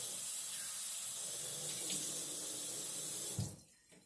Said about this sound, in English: first let me wet my face first.